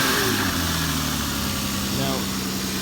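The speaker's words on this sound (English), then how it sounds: "piston slap occurs when the engine gets old and there's not proper clearance between the piston and the cylinder wall" A Lexus IS300 engine idles with piston slap from worn piston-to-cylinder clearance, giving a steady, close, continuous hum with a faint rhythmic knock, and some background voice underneath.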